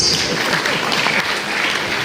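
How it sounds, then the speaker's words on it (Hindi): An audience claps loudly and steadily throughout, a dense, continuous burst of applause from a crowd at a talk held at a peace valley retreat. "ताली बजाइए जोर से।"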